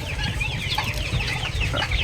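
A flock of month-old hybrid turkey poults peeps and chirps continuously, many high calls overlapping over a low background rumble, close and fairly loud.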